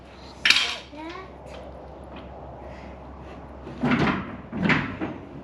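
Cabinet or cupboard-style doors are pulled open at a track day, giving a sharp knock and a couple of rattling, clattering bursts with faint voices in the background.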